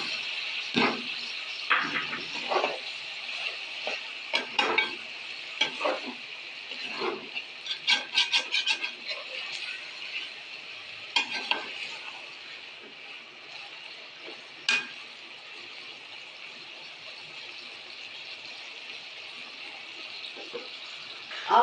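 Onions fry in hot oil for chicken karahi while being stirred, a steady bright sizzle with intermittent scraping strokes of a spoon against the pan, close by and without talk.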